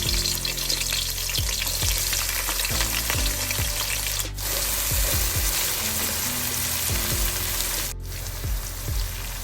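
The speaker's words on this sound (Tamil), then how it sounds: "வெங்காயம் கொஞ்சம் பொரிச்சு எடுக்க போகிறேன்." Onions fry in hot ghee and oil with a dense, crackling sizzle, close and continuous, broken by a few light stirring scrapes; no voices.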